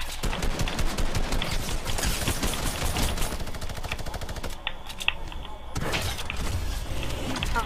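Rapid gunfire in a Fortnite match, dense repeated shots rattling fast and steady for most of the stretch with one brief lull, loud and close amid game effects.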